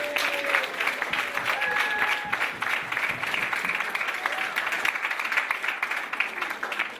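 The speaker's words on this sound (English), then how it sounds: "let's give a big, huge, humongous, ginormous round of applause for our panel members" A crowd applauds steadily throughout, dense clapping filling the room, with faint whistles or cheers mixed in.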